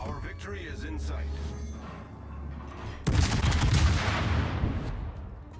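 Naval gunfire from a German ship in World of Warships, a loud sudden salvo boom about halfway through that rolls into a long rumbling decay, following a stretch of quieter engine and ambient noise.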